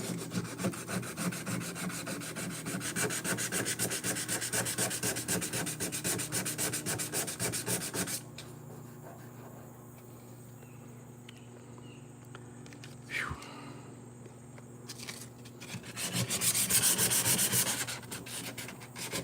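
180-grit sandpaper is rubbed across the welded firewall of a 1963 Impala in fast, rhythmic scraping strokes, loud and close, then falls quiet before a second short burst of vigorous sanding.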